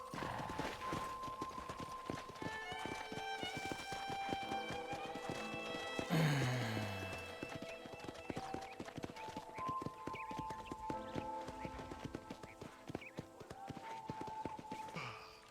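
In Red Dead Redemption, steady clip-clop of horse hooves trotting at an even rhythm throughout, with a brief whinny partway through and faint music or ambience underneath.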